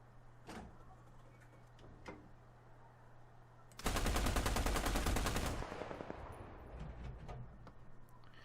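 A burst of rapid, loud machine gun fire from the War Thunder video game blasts for under two seconds over a quiet background hum with a few faint clicks before it.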